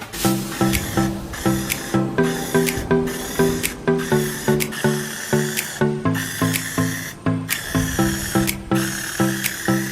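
A rattle can sprays paint onto a Nissan 350Z NISMO bumper in short repeated bursts, each hiss starting sharply and fading, close and fairly loud, in a steady rhythm without talk.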